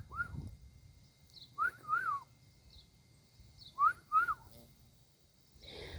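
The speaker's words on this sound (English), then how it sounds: "I was told if you whistle, they'll get wild." A person whistles toward turkeys in a garden: a few short, rising whistled notes in separate bursts, fairly faint against quiet outdoor background.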